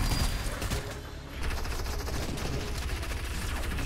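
Gunfire in a Fortnite match, including a two-shot FAMAS: a continuous, moderately loud rattle of rapid shots over the whole stretch, dense and steady, with no talking.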